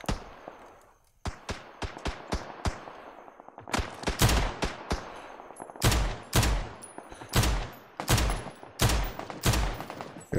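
Rapid bursts of video-game gunfire in PUBG, loud and close, with sharp single shots early, then dense automatic volleys and overlapping fusillades filling the rest, no talk.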